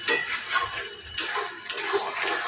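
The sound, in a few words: chicken curry being stir-fried in a pan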